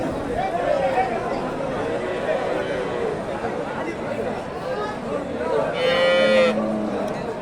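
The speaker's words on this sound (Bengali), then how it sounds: "এই যে গাভীর বাচ্চাটা" Friesian cross cows and calves mooing at a busy cattle market, several drawn-out calls rising over steady crowd chatter and people talking nearby, one louder moo near the end.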